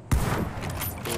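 A single sharp gunshot in a PvP shooting video game, a sudden loud crack with a low thump followed by a short tail of game noise.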